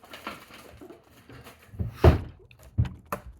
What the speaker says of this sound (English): let me just stick this mess back in my drawer